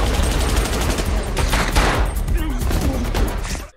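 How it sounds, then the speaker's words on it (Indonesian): Gunfire in a shootout, dense rapid bursts of shots overlapping with crackling impacts, loud and continuous, with voices mixed in underneath. "Terjadi tembak-tembakan antara satu sama lain."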